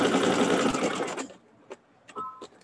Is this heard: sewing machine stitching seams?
yes